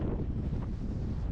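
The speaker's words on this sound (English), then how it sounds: "20+ miles per hour constant wind" Strong, constant wind of over 20 miles per hour buffets the microphone on a freezing Lake District fell summit, Haystacks, in about -14 wind chill. The roar is loud and steady throughout, with no talking.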